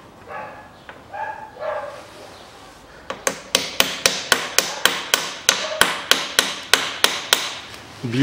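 Steady metal hammer blows striking a nut during steering rack replacement on a 2008 Chevrolet Epica, about sixteen sharp evenly spaced clanks, preceded by a dog barking briefly.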